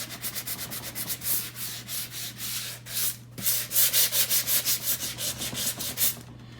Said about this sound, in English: I'm going to go on the top and sand it